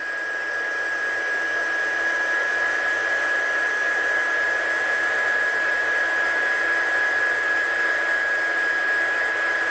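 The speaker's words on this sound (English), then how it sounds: "Get your gun really hot." A heat embossing gun for card making blows continuously and loudly with an even airy roar and a steady high whine, uninterrupted for the full duration.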